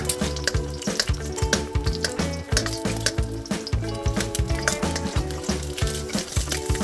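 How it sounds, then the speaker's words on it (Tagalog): Eggs frying in a pan as a topping for Filipino-style nasi goreng fried rice, a steady crackling sizzle running continuously under rhythmic background music. "Uunahin ko na ditong iprito yung toppings natin na itlog"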